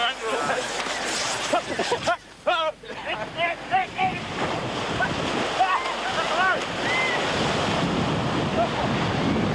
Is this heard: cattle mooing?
no